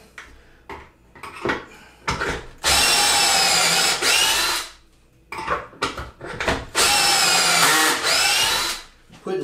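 A power drill drives pocket screws into a pallet-wood board for a wall cabinet, giving two long loud bursts of whirring with short handling knocks and clatter between them, close up.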